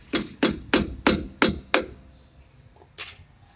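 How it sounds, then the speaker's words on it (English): A flathead screwdriver works the center cap off a drum brake on a Hyundai Eon, giving six sharp, evenly spaced metallic knocks, then a couple of fainter taps after a pause. "remove the center cap of your drum brake using a flathead screwdriver."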